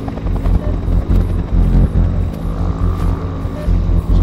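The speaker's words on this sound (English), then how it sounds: "I guess we followed the helicopter then." A helicopter in the video game They Are Here thunders close and loud, its rotor beating in a steady rapid throb with a heavy low drone that holds throughout.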